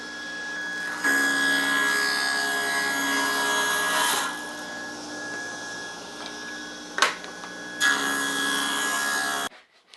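Wooden strips for a sushi tray being cut on a power saw: a steady, loud whining cut that runs almost continuously, dips briefly midway, then resumes before stopping abruptly near the end.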